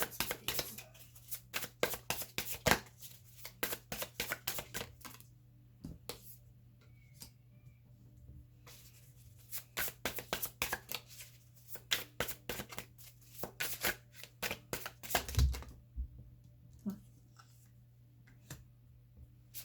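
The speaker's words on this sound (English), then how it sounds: "Three more cards, please." Tarot cards being shuffled and handled, a faint run of crisp irregular clicks and flicks in quick clusters with brief pauses, alone in a quiet room with a low steady hum beneath.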